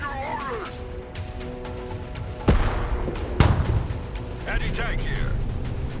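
Two heavy artillery booms from the Broken Arrow combat game, each a sharp, loud thump that fades out, spaced about a second apart beneath radio-style voices and a low battlefield hum.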